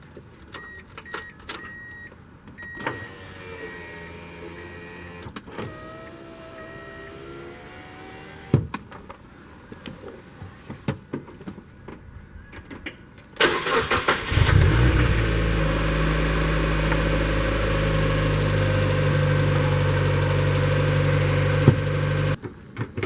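A 2000 Mazda Miata power window motor whirs in short runs while the engine is off, then the car's engine starts and idles steadily and loudly beneath further window operation, with no talk.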